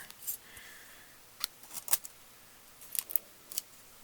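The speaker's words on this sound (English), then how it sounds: "Let's get this masked off with our foil." Aluminium foil being crinkled and handled while masking a circuit board on a foam pad during repair of an Onkyo TX-NR509 AV receiver; sparse, faint crackles and crisp rustles come in short bursts.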